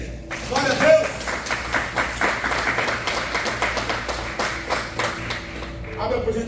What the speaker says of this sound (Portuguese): Aplauda Ele, igreja.